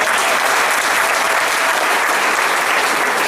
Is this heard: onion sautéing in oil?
no